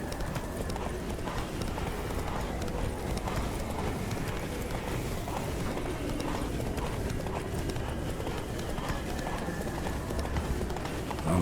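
Roach the horse gallops in The Witcher 3, with a steady, continuous clip-clop of hooves running at close range and a brief whinny mixed into the busy game soundscape.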